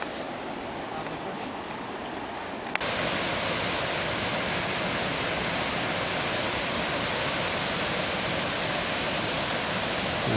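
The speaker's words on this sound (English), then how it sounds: "there's this really nice waterfall coming off of this rock down over here, and it's you know, pouring off into this nice little" A small waterfall pours off rock into a little creek that runs across a road on a spring mountain hike, a steady loud rushing roar filling the scene from nearby with no letup.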